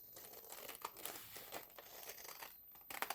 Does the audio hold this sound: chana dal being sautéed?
no